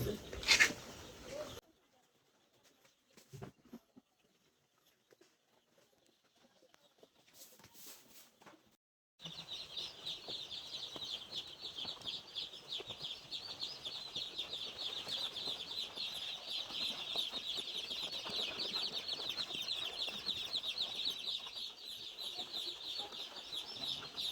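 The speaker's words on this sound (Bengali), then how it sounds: "এখানে এক হাজার মুরগির বাচ্চা নিলাম আর কি" Roughly a thousand newly arrived broiler chicks in a poultry shed raise a steady, dense chorus of high peeping that fills the second half, after a quieter opening with brief talk and shuffling.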